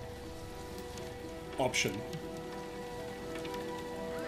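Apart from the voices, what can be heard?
rain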